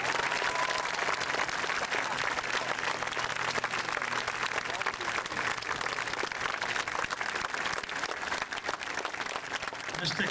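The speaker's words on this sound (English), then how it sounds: "How about a nice round of applause for our Marines?" Loud, sustained applause from a high school graduation audience in 2004, honoring Marines, dense clapping filling the whole stretch with a few voices mixed into the crowd noise.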